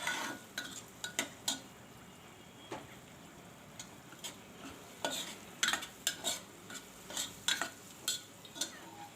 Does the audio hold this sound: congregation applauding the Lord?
no